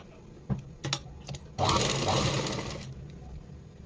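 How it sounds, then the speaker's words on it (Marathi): A sewing machine stitches a princess blouse: a few sharp clicks and short mechanical bursts, then a sustained whirring run of about a second before it slows and stops. "या ठिकाणी असं स्टिचिंग करत जायचं आहे"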